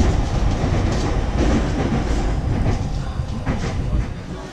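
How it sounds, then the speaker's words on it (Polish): Continuous loud rumble of a train running out of Osaka, Japan toward Koyasan, with steady wheel clatter and rail noise filling the whole stretch and faint voices underneath. "Także jedziemy tym pociągiem z Osaki, przesiadamy się w kolejny szybki"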